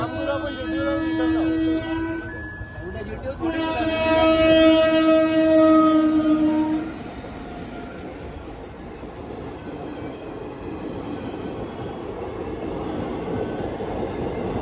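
A train rumbles past nearby at a level crossing with a loud, sustained horn blast, then the steady rolling clatter of wagons continues; faint voices are mixed in the background.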